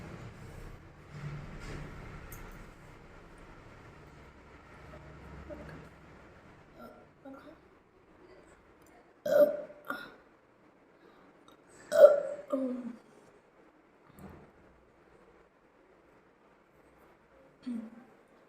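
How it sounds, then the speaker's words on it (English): Burps after chugging water, a few short voiced bursts spaced apart over quiet background, with some faint talking early on. "Just trying to burp."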